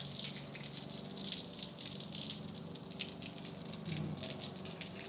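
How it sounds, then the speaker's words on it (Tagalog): Water splashes and pours onto dusty ground on a hot day, a steady close gushing wash with a few faint background sounds. "Idilig ko na lang muna dito para hindi masyadong malikabok."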